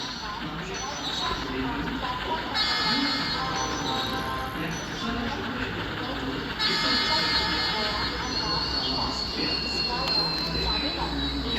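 A new passenger train rolls toward the station with a continuous heavy rumble of wheels on rails, faint squeals and brighter metallic tones rising over the steady roar throughout.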